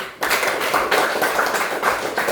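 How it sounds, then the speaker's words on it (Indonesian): A group claps together in a classroom teaching assessment. The claps run as dense, steady applause of moderate loudness for about two seconds, with no talk over them. "Oke, tepuk tangan untuk semua."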